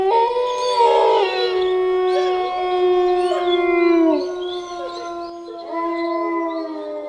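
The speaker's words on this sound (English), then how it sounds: "the sudden howling of wolves broke the silence" Wolves howl in long, sustained, wavering tones, several voices overlapping and rising and falling together, loud and alone with no talking.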